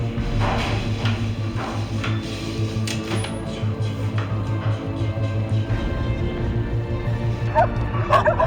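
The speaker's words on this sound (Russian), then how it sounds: "страшный пес." A frightened dog at a rescue shelter barks and whimpers in short, close yips and whines. Steady background noise runs beneath it.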